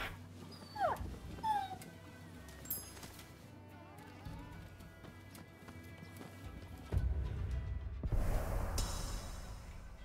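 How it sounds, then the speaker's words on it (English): A puppy whimpers softly while being petted in the video game Rise of the Ronin, heard amid game ambience with hoof clip-clops and background sounds over about ten seconds. "Hey, there's a puppy. Let's pet it."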